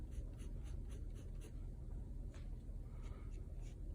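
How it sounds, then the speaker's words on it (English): A 5B pencil drags very lightly across paper while drapery is drawn, a soft continuous scratching in short repeated strokes over a steady low background rumble. "I'm working right now with a 5B pencil"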